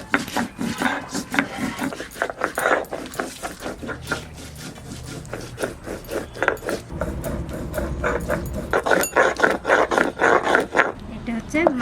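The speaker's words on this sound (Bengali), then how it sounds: "লঙ্কাটা আমি বেটে নেব" Dried red chillies being ground into paste on a traditional grinding stone, a rough rhythmic scraping and rubbing repeated steadily up close while someone speaks over it.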